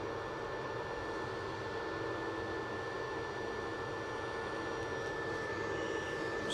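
An aircraft engine at Manchester Airport gives a steady, broad roar that holds at an even level throughout, with no voices over it.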